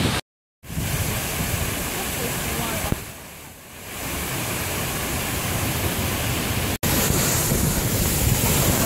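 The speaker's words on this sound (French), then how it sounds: "Voilà la chute d'eau. Et elle est immense." A huge waterfall at Seogwipo on Jeju island, a broad, constant roar of falling water mixed with wind buffeting the microphone, steady and loud with a brief dip and short dropouts.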